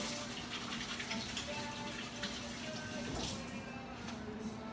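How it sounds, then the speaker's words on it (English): A kitchen tap runs steadily while hands are washed with soap, giving a constant close gush of water that lasts the whole few seconds. "Let's wash our hands. Use a little soap."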